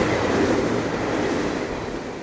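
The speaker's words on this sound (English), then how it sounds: "At Hinckley, we get our first sighting of the Burlington Northern paint scheme on the E unit heading up combined" A Burlington Northern E unit diesel locomotive heads combined passenger trains 25 and 31 past at Hinckley, a loud, continuous rumble and rolling clatter that eases slightly as it goes by.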